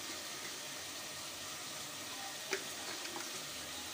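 Chicken browning in a pan with turmeric and salt for chicken macaroni gives off a soft, steady sizzle of frying, quiet and continuous, with a faint clink partway through.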